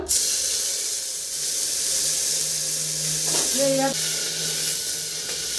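Oil and water sizzle and hiss steadily in a preheated pressure cooker on a gas stove, a loud, continuous frying noise with a brief voice speaking partway through.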